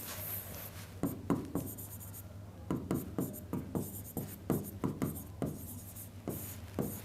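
A pen writes on a lecture slide, producing close, soft scratchy strokes in short irregular bursts over a steady low electrical hum, with no talk.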